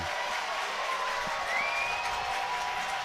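A college baseball stadium crowd cheers at an Alabama versus Jacksonville State game, a steady, moderately distant roar with a whistle rising briefly above it.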